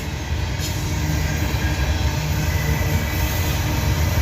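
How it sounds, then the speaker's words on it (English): A freight train with a distributed power unit locomotive rumbles past close by, a loud, continuous roar of heavy wheels and railcars with faint rail squeal, with no talking. "DPU coming up, distributed power unit"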